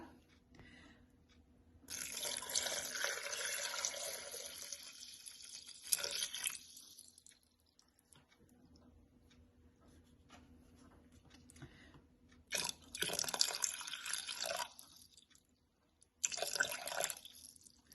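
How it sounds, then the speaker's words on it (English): Water pours in several bursts into a pot, a steady rushing splash that stops and starts again, recorded close and fairly quiet. "So I'm now going to add 400 grams of water."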